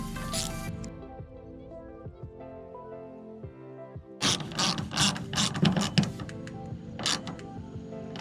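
A ratchet wrench with a 7mm socket clicks in quick bursts while tightening a tailgate camera part on a 12th generation Ford F-150, with a busier run of ratcheting in the second half.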